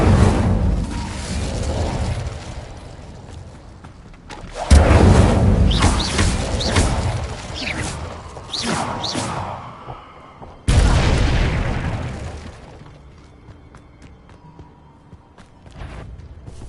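Incendio fire spells cast in Hogwarts Legacy: two separate sudden whooshing bursts that flare loudly and then crackle and fade over several seconds, with a background hum between them.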